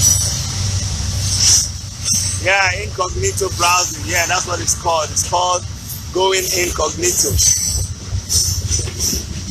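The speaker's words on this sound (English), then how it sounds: "there's going to be the noise of train passing" A train passes along a railway line as a steady low rumble with rail noise, running throughout beneath someone talking in the foreground.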